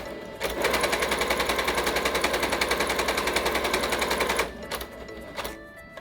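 A Yamata digital sewing machine stitches a step zigzag in a loud, fast, steady mechanical chatter of rapid needle strokes for about four seconds, then stops, leaving a few faint clicks.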